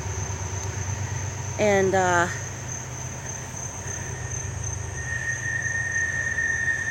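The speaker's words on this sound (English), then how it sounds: "that's another creepy train coming through." A train passes near a cemetery, sounding a short horn blast that cuts through a steady bed of insect chirping and a constant hum, while a person talks nearby.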